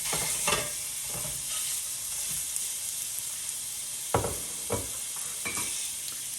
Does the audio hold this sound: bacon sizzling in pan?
yes